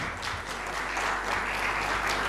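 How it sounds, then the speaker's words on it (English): An audience gives a final round of applause for dignitaries gathered on stage at an e-commerce marketplace conference, a steady, dense clapping that holds evenly throughout. "So one final round of applause for the dignitaries together."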